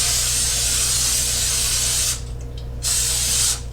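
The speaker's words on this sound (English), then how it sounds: "even though it's an olive oil based spray" A steady hiss of olive oil baking spray, held continuously for about two seconds, a short pause, then another brief burst of spraying up close.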